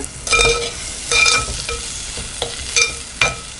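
Oil sizzles in a pan as tomatoes are stirred, with a few scraping bursts of spoon against metal over a steady, quiet frying hiss.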